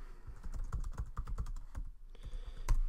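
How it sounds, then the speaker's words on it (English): Quick, uneven clatter of fingers typing on a computer keyboard, close and clear, with a short pause and then a few more keystrokes. "I'm typing out what he has to do"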